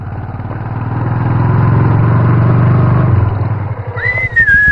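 A motorcycle engine rumbles steadily up close for several seconds, then its note drops as the bike slows and idles, with a brief high whistle-like tone near the end.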